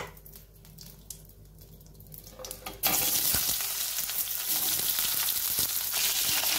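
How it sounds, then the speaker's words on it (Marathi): Cucumber pieces dropped into hot ghee with crackling cumin seeds, a quiet low sizzle jumping to a loud, steady, close crackling fry that carries on to the end. "आता याच्यामध्ये मी घालणार आहे काकडीच्या फोडी।"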